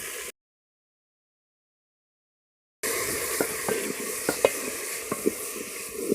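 Tomatoes and green chilies tossed into frying onions in a pan, a steady close sizzle with several sharp clicks and scrapes of a spoon as the mixture is stirred, heard alone after a brief pause.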